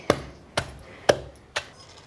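Four sharp, evenly spaced thuds, about half a second apart, a pestle pounding spices and soaked chillies in a stone mortar, with nothing else around them.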